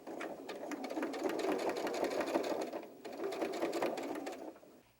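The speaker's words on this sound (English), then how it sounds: "we are going to sew our pockets from one corner down around to the other corner" A sewing machine stitches pockets onto an 18-inch doll dress in fast, even bursts of rapid needle chatter, pausing briefly mid-run before resuming, close and moderately quiet.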